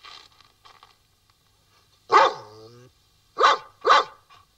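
A dog named as a member of a tank crew in a Polish wartime drama barks a few times in a short sequence, with one longer yelping bark among them, heard alongside quieter speech.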